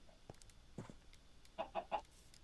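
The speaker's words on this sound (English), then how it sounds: "I see a chicken there." A chicken in a video game clucks in a few short bursts, ending with three quick, louder clucks close by, alone without talk.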